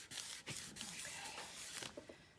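Paper in a Stamperia Voyages Fantastique mini album is rubbed with a burnishing tool. It makes a close, dry scraping and rubbing sound with a few sharper strokes, and no one speaks.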